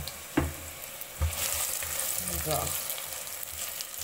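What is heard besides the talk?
oil sizzling in a heated pot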